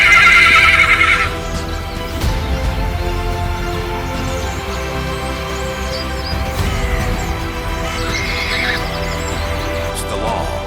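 Wild horses in a herd fight over mates: a loud, shrill neigh rings out at the start, followed by continuous hoofbeats and scuffling, with further fainter whinnies later.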